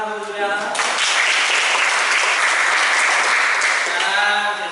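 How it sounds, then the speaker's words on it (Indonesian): Applause from a classroom audience at a teacher-training presentation session, a loud sustained burst of clapping that swells in and fades after a few seconds, with voices briefly heard at either end. "Tepuk tangan untuk Juliana."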